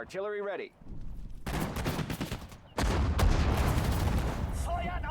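Dense bursts of rapid gunfire and booming shots from the video game Sudden Strike 4 fill the clip, loud and sustained, with a brief electronic chirp at the start and end.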